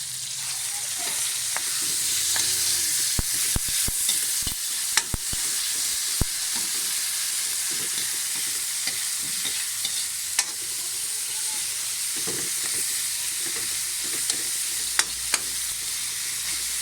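Corned beef sizzles in a hot pan with a constant hiss, broken by sharp clicks and scrapes as it is stirred.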